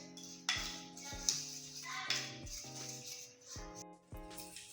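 A baking soda face scrub being mixed in a small bowl, with a rhythmic series of light scraping strokes and soft clinks from the stirring utensil, close and quiet.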